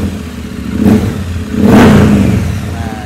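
A Triumph motorcycle with a Vance & Hines exhaust revs up twice, a short blip then a longer, louder rev that falls back to idle, close and loud with no talking.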